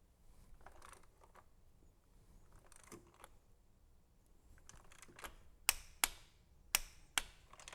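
A torque wrench tightening a spark plug to 13 foot-pounds on an NSX: faint fiddling and tool handling, then a few sharp, close metallic clicks in quick succession near the end.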